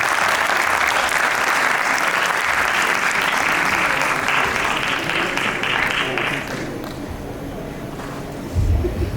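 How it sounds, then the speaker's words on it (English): A TEDx audience at a Sustainable Development Goals event gives a big round of applause, sustained and loud for several seconds before thinning toward the end. "Please give a big round of applause to Mr."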